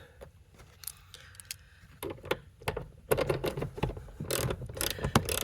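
A nut being tightened on a rear seat hinge of a 3rd or 4th gen F-body car, heard as close, quiet ratcheting clicks and metallic taps that grow busier and louder toward the end.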